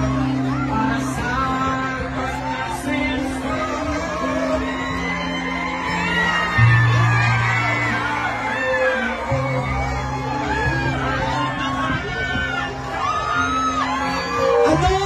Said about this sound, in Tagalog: Sigaw ng mamamayang Pilipino! Duterte! Duterte!